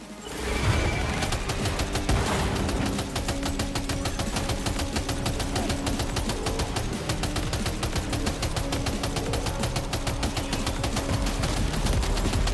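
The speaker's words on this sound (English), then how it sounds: "Where's that machine gun?" Sustained machine gun fire in the video game Death Stranding 2, loud dense rapid bursts rattling continuously without a break, with a heavier impact near the start.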